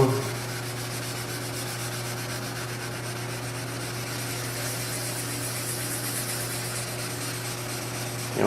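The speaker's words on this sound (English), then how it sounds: "So we got 1500 here wet. Just going to go over it real lightly here." Wet sanding of black car paint with 1500-grit sandpaper makes a light, steady rubbing swish that continues evenly throughout, set against a constant low machine hum in the background.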